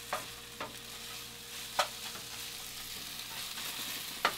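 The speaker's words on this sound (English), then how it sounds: "So you mix it around until the rice is almost fully covered in the kimchi juice" Kimchi fried rice stirred and frying in a pan, a steady sizzle underneath with a few sharp scraping clicks of the utensil against the pan, close and moderately loud, no talking.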